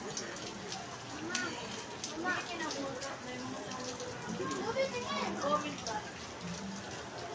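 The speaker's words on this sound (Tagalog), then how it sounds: "Maulan dito ngayon Kaligalig." Heavy rain in Busay, Cebu City: a steady patter and splash of drops on surfaces under voices talking and children in the background, continuing throughout at moderate loudness.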